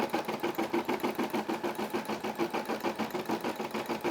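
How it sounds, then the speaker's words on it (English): A Brother SE600 embroidery machine stitches a Puma logo with a fast, even, rhythmic needle chatter and a mechanical hum, close and steady throughout. "Looks like it's stitching out the Puma."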